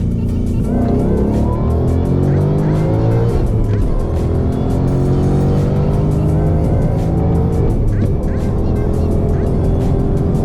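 A Whipple supercharged Mustang GT pulling hard from a second-gear roll, its engine roaring loudly and climbing through revs with a tire squeal from lost traction, recorded close from inside the car.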